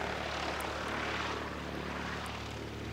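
An Emirates Airbus A380 airliner roars steadily and loudly overhead during a go-around, a broad continuous engine rumble with no voices.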